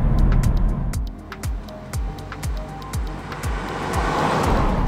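Car rolling on Hankook Kinergy PT all-season touring tires, heard from inside the cabin: a steady low road rumble with rhythmic thumps from tire impacts on pavement joints, moderately loud, without talking.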